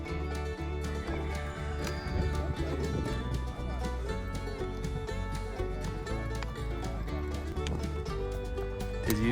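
Horse being worked in a training session in a barn, with hoof clip-clops and a brief whinny over steady background noise and faint talk.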